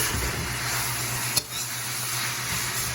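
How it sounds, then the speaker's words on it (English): Vegetables and mushrooms are stirred in a wok, a steady sizzle of frying with a single sharp clank of the utensil against the pan midway, close and alone without talk. "So we're gonna want to stir this up in the wok for a few minutes until everything's looking nice and dark."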